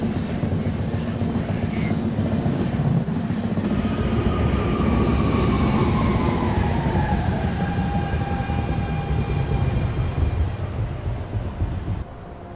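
An automated NYC subway R262 train on route 1, Manhattan-bound, rolls along with a loud continuous rumble and rail noise, a rising and falling motor whine sweeping through the middle, heard close from on board.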